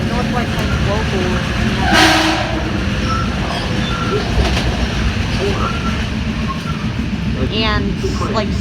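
A North White Plains local commuter train rumbles steadily nearby with rail noise, a brief horn-like tone rising midway, while people talk over the din.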